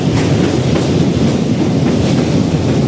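A passenger train on the Ledo to Guwahati line rumbles along in a steady, loud, broadband roar, with faint rhythmic clatter heard from on board.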